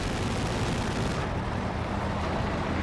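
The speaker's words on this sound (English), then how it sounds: "Never mind, he found a shoe mine" A Schu mine detonates in the war game Company of Heroes 2, a dense, loud, rumbling blast of noise that fills the whole moment with no talk.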